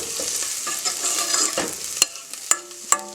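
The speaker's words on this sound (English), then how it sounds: "I'm going to cook off the garlic and the chilli now" Garlic and green chilli fry in a pan for a chicken curry, a close sizzle broken by a few sharp clacks of a spoon stirring against the pan, no talking.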